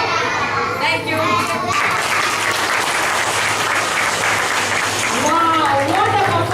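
Parents in a school hall clap after a children's stage show in Bangalore, the applause loud and continuous, with a voice and scattered chatter rising over it near the start and again toward the end.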